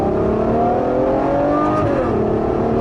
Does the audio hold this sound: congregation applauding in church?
no